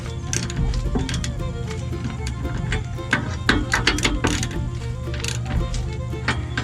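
Ratchet wrench tightening trailer axle bolts in a crisscross pattern: dense, continuous rapid clicking of the pawl, fairly loud and close, with bursts of sharper ticks later on.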